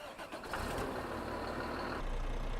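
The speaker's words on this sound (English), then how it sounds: "Let's check the engine sounds again." A vehicle engine in Farming Simulator 19 runs steadily with a low, continuous rumble that swells slightly after a brief start, heard alone with no talk.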